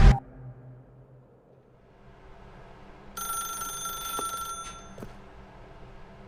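A telephone rings in The Stanley Parable, a short electronic ring lasting about a second and a half that rises over a quiet room tone, then cuts off abruptly. No one speaks.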